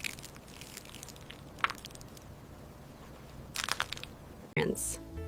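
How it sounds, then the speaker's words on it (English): Oreo biscuits crushed into small chunks for a chocolate ice cream, heard as a few close, dry crunching and cracking bursts spread across a quiet background. "Crush the Oreo biscuits into small chunks."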